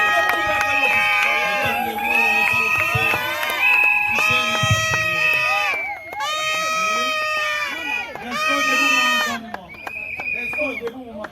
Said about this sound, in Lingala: Acclamons l'officier.